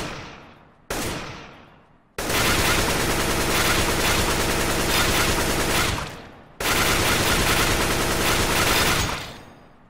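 AK-47 rifle in the game CS:GO fired in long continuous sprays, two sustained bursts of rapid automatic gunfire with a short tap before them, loud and close, with no talking.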